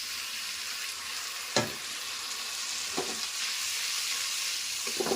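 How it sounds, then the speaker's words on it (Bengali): A crab curry spice paste thinned with a little water sizzles in a hot wok (kadai) with a constant soft hiss, broken by a few brief scraping stirs. "এবার আমি এটা কড়াতে ঢেলে দেব।"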